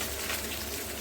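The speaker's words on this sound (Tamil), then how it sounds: "சிம்பிளாக தான் வெறும் மீன் வறுத்துட்டு" Fish frying in a pan in a home kitchen, a steady close sizzling hiss with no voices.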